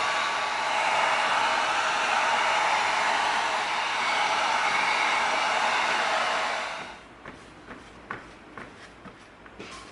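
A heat gun blows a steady, loud rushing roar for about seven seconds while heating EVA foam before gluing. It then cuts off, and a few soft taps and handling noises follow.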